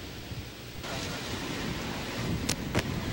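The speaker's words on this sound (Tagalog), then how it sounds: "Napakalakas ng hangin na sinabayan pa ng napakalakas ding ulan." Heavy rain and strong wind during Typhoon Lando in Baguio City, a steady roaring hiss of downpour and gusts that thickens partway through, with a couple of sharp bursts near the end.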